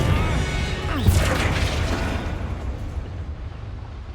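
A Confringo blasting spell bursts in Hogwarts Legacy, a loud explosive boom with a bright crackling flare near one second, then a rumbling tail that slowly fades under continuing game ambience.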